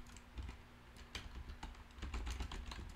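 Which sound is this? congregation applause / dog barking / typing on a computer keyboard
typing on a computer keyboard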